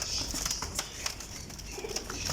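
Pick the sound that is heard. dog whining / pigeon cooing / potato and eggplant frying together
pigeon cooing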